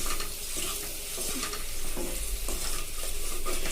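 Food sizzles steadily in a hot pan with chili powder as a spoon stirs it, giving a continuous frying hiss with soft scraping strokes, close and fairly loud, and no talking.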